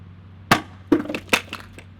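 A foam cannon bottle hits the ground with a sharp crack, then a few lighter clattering knocks and rattles as it settles over about a second.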